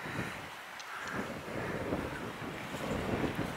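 Wind blowing outdoors on a paved driveway, a steady loud rushing roar buffeting the microphone throughout, with no talking.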